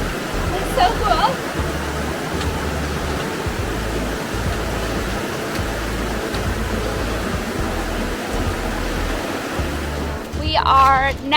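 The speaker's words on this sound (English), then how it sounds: "It's just right on the edge of this rock wall and running right next to the river." Near a trail, a river and waterfall rush beside a rock wall in a continuous broadband roar, and people talk briefly over the water near the start and end.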